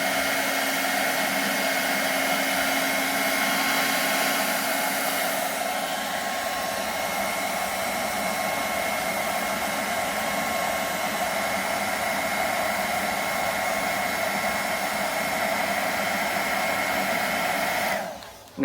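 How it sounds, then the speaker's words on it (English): A hairdryer blows steadily on a paint patch on a silicone mask, a close, constant whooshing hum with a faint whine that runs unbroken for about eighteen seconds before cutting off abruptly. "Hit it with a hairdryer."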